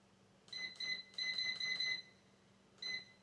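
An air fryer's control panel gives a quick series of bright electronic beeps as the temperature is adjusted, several in a row, then a pause and one more, crisp and close in a quiet kitchen.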